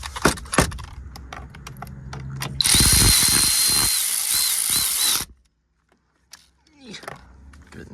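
A power drill drives screws into a 1997–2001 Honda CR-V airbag, a loud whirring burst of a few seconds after clattering metal handling and short spoken remarks.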